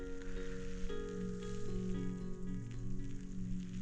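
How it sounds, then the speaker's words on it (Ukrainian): Steady heavy rain hissing and pattering continuously on a mountain ridge in the Gorgany range of the Carpathians, with a dense low rumble underneath and no voices. "Валить дощ"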